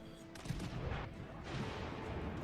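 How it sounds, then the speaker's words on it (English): Secondary battery guns on the starboard side of the battleship Bayern firing in World of Warships: Legends, a dense rumble of distant gunfire bursts, steady and moderately faint. "Now we see the starboard side secondary battery going off."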